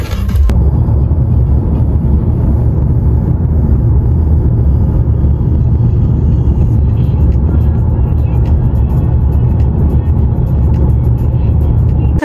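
Inside a taxi driving through Volgograd at night with the air conditioning running, a loud, continuous low road and engine rumble fills the cabin, with faint murmurs in the background.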